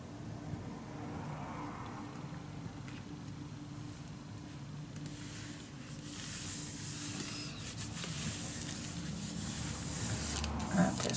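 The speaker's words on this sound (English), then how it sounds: "you need to burnish it down" Tape and a fabric tag are rubbed down firmly onto a mini album, a close, soft scraping friction that grows louder and more continuous in the second half.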